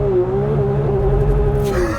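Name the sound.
2024 Porsche 911 S/T launch control acceleration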